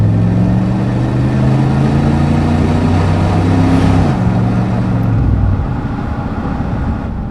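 A 1987 Chevrolet Camaro IROC with a TPI 350 V8 and 700R4 automatic pulls hard under throttle, a steady loud engine drone rising slightly in pitch before dropping back as the driver lifts off.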